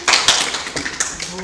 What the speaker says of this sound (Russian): Аплодисменты для Насти